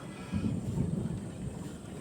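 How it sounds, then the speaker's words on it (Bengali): Distant thunder over open green countryside rolls as a low, muffled rumble, swelling after a brief quiet start and fading gradually, faint and far off. "এখন আকাশে মেঘ ডাকছে"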